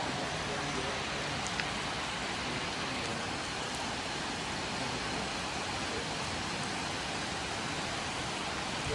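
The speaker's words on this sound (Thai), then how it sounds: "บรรยากาศฝนตกครับ" Steady rain falls outdoors in rural Thailand, a dense, even hiss of drops that holds at a constant level from start to finish, fairly soft, with no distinct voices standing out.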